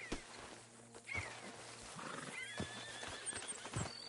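A horse whinnies in the video game Red Dead Redemption 2, a short rising neigh against an outdoor backdrop with scattered hoof clops and thuds, moderately near but fairly quiet.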